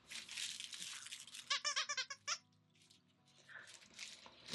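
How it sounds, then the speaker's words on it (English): A dog at an Airstream gathering chomps on a squeaky toy, producing a quick burst of about eight rhythmic, high-pitched squeaks followed by a couple more scattered squeaks amid faint background noise. "she started squeaking that thing and it was interrupting the whole conversation"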